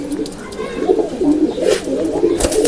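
A pigeon coos in repeated soft, throaty phrases close by, with a few faint background clicks and noises.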